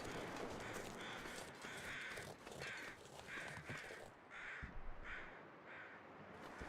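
Repeated crow caws from The Long Dark survival game, a steady series of harsh calls spaced about every second, fairly loud over a constant wintry wind-like background, no talking.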